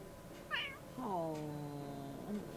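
Small cat meowing as it is picked up and hugged in The Sims 3 video game, a short chirp followed by a longer drawn-out meow and a brief final mew, fairly quiet.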